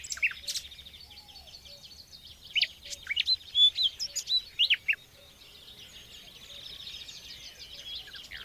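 Nightingales sing in a sunlit cork oak forest, trading bright, rapid phrases of whistles and trills over a quiet woodland background, with the loudest burst of song coming partway through.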